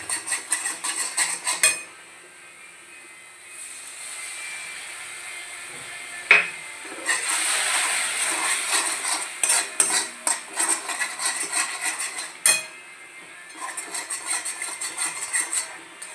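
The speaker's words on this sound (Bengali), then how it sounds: "জিরে গুঁড়ো দিয়ে ভালো করে আবার মশলাটাকে ভালো করে কষিয়ে নিতে হবে।" Spice paste with cumin powder stirred in a pan, with repeated scraping and clinking of a metal spoon against the pan in uneven bursts, close and clear, separated by brief quiet gaps.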